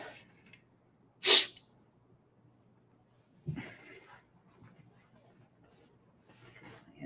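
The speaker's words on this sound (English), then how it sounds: "I'm about to sneeze, so forgive me for that in advance." A single sharp sneeze bursts out close and loud near the start, followed a couple of seconds later by a quieter breath or sniff, with near silence around both.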